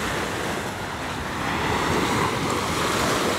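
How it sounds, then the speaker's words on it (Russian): Waves of the Sea of Azov breaking on a sandy beach at Golubitskaya in September, a steady loud surf wash with wind rushing across the microphone, no voices. "Вот это вот Азовское море в сентябре."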